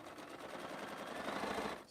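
Sewing machine stitching through fabric scraps after being oiled: a steady, faint mechanical whir that holds for under two seconds, with no voices.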